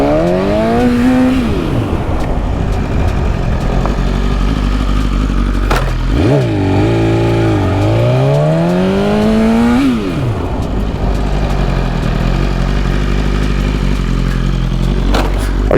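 A BMW S1000RR sport motorcycle revs hard at close range, its loud engine pitch climbing and falling in repeated sweeps, with brief gaps and clattering bursts between revs, heard alone.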